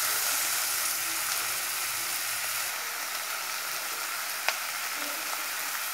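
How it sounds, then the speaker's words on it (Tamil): Onions sauté in a pan for a Sri Lankan beetroot curry made with milk, giving a steady, fairly loud sizzling hiss throughout, with one sharp stirring click partway through. "வெங்காயம் வந்து நல்லா வதங்கணும்."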